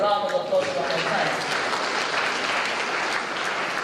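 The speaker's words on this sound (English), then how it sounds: "Please can we give them a round of applause one more time?" An audience at the President's NYSC Honours Award ceremony in Nigeria claps steadily for the honoured young corps members, a dense, even round of applause throughout, with a voice briefly heard at the very start.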